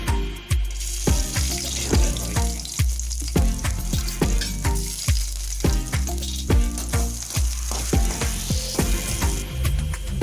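Garlic and ginger fry in ghee in a pan for lentil powder, a loud close crackling sizzle punctuated by many sharp spatula taps and scrapes at a quick, irregular rhythm, with no speech.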